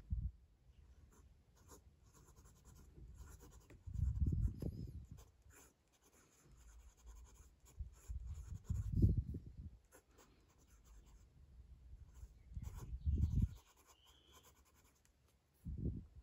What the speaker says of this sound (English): Let's do a writing sample now with the Wancher Dream Pen True Urushi Midori Tamenuri.